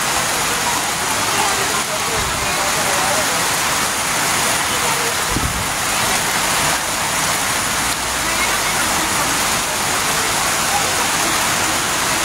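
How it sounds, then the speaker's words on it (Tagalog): Heavy rain pours steadily during typhoon flooding in San Luis, Antipolo City, a dense, loud, unbroken roar of water throughout with a couple of faint thumps underneath. "Patuloy pa rin yung ano, patuloy pa rin yung ulan"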